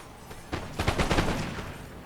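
Musket volleys in the battle game Napoleon Total War, a ragged fusillade of overlapping shots crackling in quick succession, preceded by a single isolated report.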